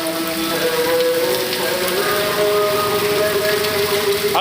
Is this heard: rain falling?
yes